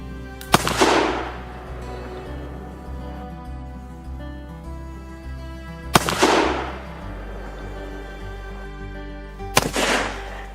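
A revolver fired with a tobacco charge, three loud sharp shots spaced a few seconds apart, each with a brief ringing decay, against a steady low hum.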